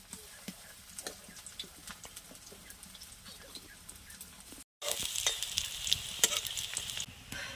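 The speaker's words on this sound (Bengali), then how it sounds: "এইভাবে আমি সবগুলো ভেজে নেব" Water lily flower pakoras fry in oil, a soft crackle with scattered pops and clicks that grows louder and brighter in the second half after a brief break.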